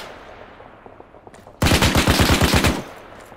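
Automatic gunfire in Arma 3 during a New York City zombie attack: after quiet ambience, a loud, close burst of about a dozen rapid shots rips out for just over a second, then cuts off.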